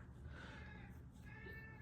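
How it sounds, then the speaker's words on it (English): A talkative house cat meows in a drawn-out, wavering call, fairly faint and alone with no talking. "It's my sister's cat again. She's very talkative."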